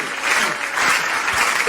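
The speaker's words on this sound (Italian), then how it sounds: "Guarda che applauso." Applause from a studio or event crowd on an Italian radio-TV broadcast, a steady broadband patter of clapping that holds for under two seconds with no voices over it.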